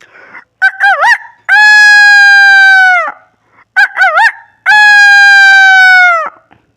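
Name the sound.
man imitating a rooster crowing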